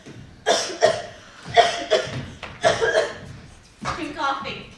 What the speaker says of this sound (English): I'm coughing. I'm choking.